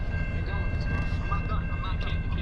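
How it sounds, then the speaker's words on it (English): A freight train at a road crossing on Allen gives a steady, low rumble with faint metallic clatter, heard close by while a person talks over it. "this train, it started moving, and now it came to a complete stop once again."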